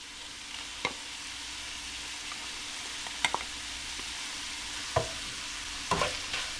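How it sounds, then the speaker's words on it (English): Rehydrated onions sizzle gently in a frying pan while a utensil stirs them, with soft frying hiss and a few sharp scrapes and clicks against the pan. "I'm going to take my rehydrated onions and I'm going to add them now"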